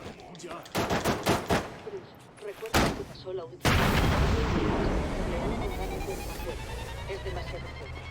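Gunfire in Batman: Arkham City comes as several sharp bursts of shots, then a heavy blast and dense sustained rattling fire, loud and close, with someone talking over the early bursts.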